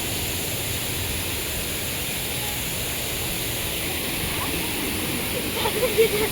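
Steady broadband rushing of the Honnamma Halla stream in Chikkamagaluru fills the scene throughout, with a few brief splashy bursts near the end.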